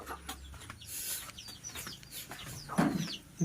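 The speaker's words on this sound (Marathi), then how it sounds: "कोंबडी" A chicken clucks a few times nearby, short throaty notes over faint outdoor background noise.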